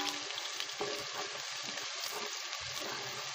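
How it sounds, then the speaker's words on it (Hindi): Sliced onions browning in oil in a cooking pot for a minced meat dish, a constant bright crackling sizzle with small irregular bubbling pops, close and fairly quiet. "प्याज को ब्राउन करना है अच्छे से"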